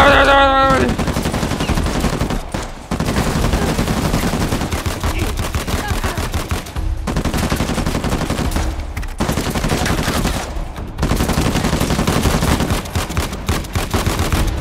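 A mounted gun in Uncharted: The Lost Legacy fires loud, rapid bursts, with sustained automatic fire broken by a few short pauses over several seconds.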